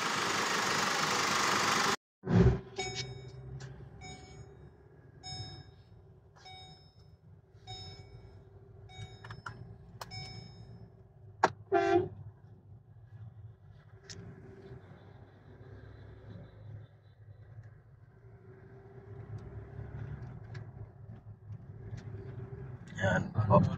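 A 2014 Chevrolet Trailblazer on a road test after a transmission filter and fluid change: a steady low engine and road drone runs throughout with a few clunks and knocks, and a voice talks over it at times.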